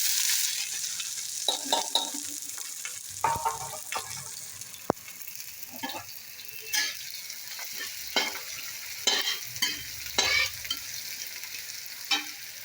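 Cumin seeds and onions roast in a pan, a soft frying sizzle under repeated close stirring scrapes and clatters of a spoon against the metal, with no voices.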